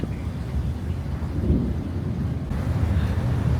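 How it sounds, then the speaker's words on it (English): Low, continuous rumbling of thunder rolling on and off, with a steady hiss of rain in the background, in Kuala Lumpur. "There is lots of thunder and lightning around."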